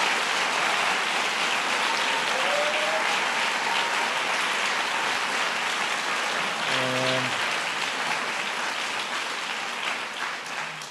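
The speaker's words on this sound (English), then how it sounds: "I want to give all those educators, counselors, and community members a big round of applause" An audience at a White House event presenting 'Hamilton' applauds for educators, counselors and community members: a broad, sustained roar of clapping throughout, briefly overlaid by a short tonal sound midway, slowly easing toward the end.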